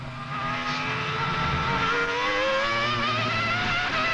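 A 2000 Formula 1 car engine screams at full, steady revs in 5th or 6th gear, loud and close, with a slight pitch drift as it holds speed.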